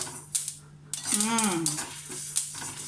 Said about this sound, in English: the sesame has started spluttering